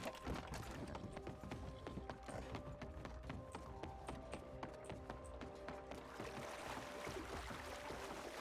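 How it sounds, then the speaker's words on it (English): Quiet, steady horse hoofbeats clop along in a continuous rhythm in the game RedM, somewhat distant, over a soft bed of background noise. "I think I hear your horse."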